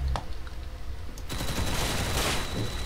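Minigun fire in the video game Arsenal: a sustained, dense roar of rapid gunfire builds after a brief lull and runs loud and continuous to the end, with scattered shots before it.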